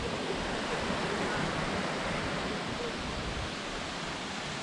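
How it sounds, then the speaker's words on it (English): The Schlossrinn waterfall in a Bavarian forest, falling about 50 metres, gives a steady, dense roar of rushing water, close and continuous with no change through the stretch. "Sound of water is really cool"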